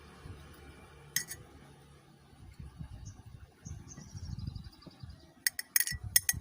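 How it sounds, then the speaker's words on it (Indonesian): Young coconut is poured into a drinking glass, with sharp glass clinks and soft sloshing, splashing pours in a quiet kitchen setting. "saya kelapanya dulu ya dituangin ke gelas"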